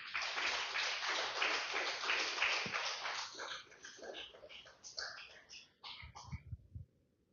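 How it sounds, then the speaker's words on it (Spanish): Congregation clapping for the Lord during a church service, a dense burst of applause that thins out into scattered claps and fades away by the end. "Denle un fuerte aplauso al Señor, aleluya"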